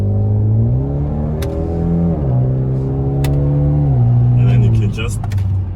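Kia Cerato Koup engine revving while driving in manual mode, loud and close, the pitch climbing then dropping with several gear shifts, with a voice talking over it.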